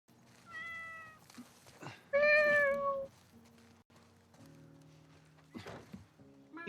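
Several distinct cat meows in The Last of Us Part I, one loud and drawn-out in the middle, separated by soft thumps and footsteps, with no talking.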